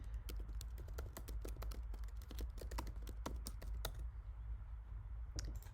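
Typing a name on a computer keyboard, a quick irregular run of crisp light key clicks over a low steady hum, close and quiet, with no talking.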